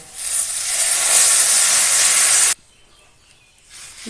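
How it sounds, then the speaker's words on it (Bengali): Water poured into a hot pan of fried potatoes erupts in a loud, bright sizzling hiss that holds steady for about two seconds, then cuts off abruptly to near quiet before a faint hiss returns. "আলু এ দেখো ভাজা হয়ে গেছে এবার জল দিয়ে দেবো"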